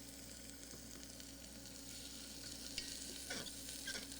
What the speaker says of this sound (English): put the next ingredient in, which is a diced onion. And then give it a good stir.